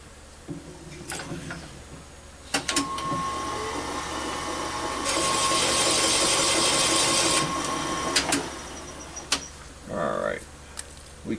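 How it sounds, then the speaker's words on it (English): A valve-seat cutter grinds a 45-degree seat into a Ford 390 cylinder head, giving a steady, close-up mechanical whir with clicks and a louder, rougher stretch in the middle, while someone talks over it. "we'll go here just till we get our 45 cut in"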